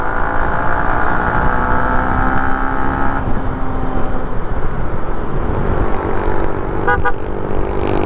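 A Yamaha Sniper 150 motorcycle fitted with an Eastar Speed plug-and-play ECU, its rev limit unlocked to 12k RPM, runs with a loud, steady, high-revving engine drone throughout, with a brief higher tone near the end.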